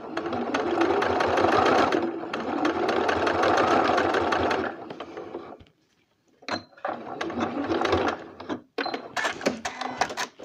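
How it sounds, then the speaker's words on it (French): A sewing machine stitches a small fabric pouch for storing sewing clips, running in a steady loud mechanical burst for several seconds, pausing briefly, then resuming in shorter start-stop runs for the back-and-forth securing stitches. "On fait toujours un petit aller-retour pour débuter la couture et pour la finir."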